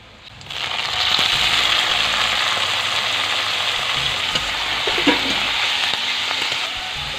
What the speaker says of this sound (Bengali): পেঁয়াজটা একটু একটু ভাজা হয়ে এসছে, এবার আমি শাকটা দিয়ে দেবো।